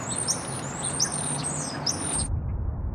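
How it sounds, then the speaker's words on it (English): Birds chirp and squawk repeatedly over a steady low hum of city traffic, the calls bright and clear before the birdsong drops out as heard through a simulation of Mars's atmosphere. "if you listen to this recording here with birds and the city noise"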